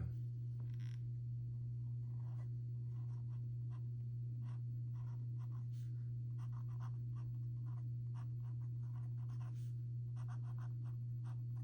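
A fountain pen inked with Sailor Wicked Witch of the West scratches faintly across paper in short, irregular strokes over a steady low electrical hum.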